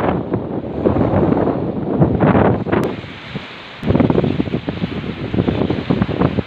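Strong wind on an island point at Walpole buffets the microphone in heavy roaring gusts, briefly easing near the middle before surging again, with no voices.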